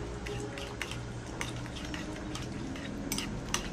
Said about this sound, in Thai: แล้วทีนี้ก็คนนะครับ